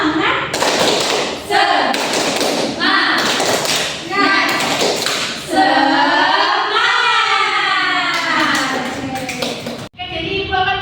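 Classroom clapping chant, the Indonesian "tepuk semangat" spirit clap: rhythmic bursts of hand claps in a patterned sequence, mixed with chanting voices throughout and a brief pause near the end.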